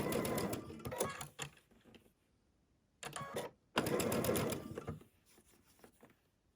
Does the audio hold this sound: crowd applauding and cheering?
no